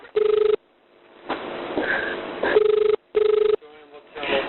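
A telephone line rings during an emergency call, with two close, regular ring bursts heard over a phone connection, separated by muffled line noise and background voices.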